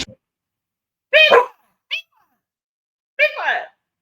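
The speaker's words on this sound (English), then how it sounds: "This is my daughter's dog. I'm doing some pet sitting." A pet dog barks indoors at home, a few sharp, loud, close barks spaced irregularly with silence between them, heard alone without talking.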